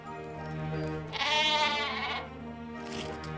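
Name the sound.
sheep bleating in video game The Book of Unwritten Tales 2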